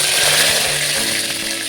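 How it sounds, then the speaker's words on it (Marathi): Mustard seeds, cumin and curry leaves sizzle and crackle in hot oil for a pulao, a steady loud hiss with a few sharper pops, heard alone without talk. "तेल गरम झालेलं आहे त्याच्यामध्ये आपण मोहरी टाकूया थोडेसे जिरे टाकूया"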